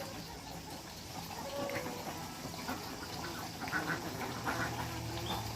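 Ducks quacking in scattered bursts while being fed duckweed, over a noisy outdoor background, moderately close, with no clear talk.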